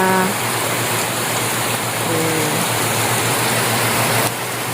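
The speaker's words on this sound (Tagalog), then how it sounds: "Lalo na ngayon umuulan" Steady rain falls outdoors as a continuous dense hiss that holds evenly throughout and drops slightly at the very end, with faint brief tonal sounds in the background and no speech.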